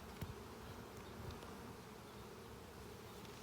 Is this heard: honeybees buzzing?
yes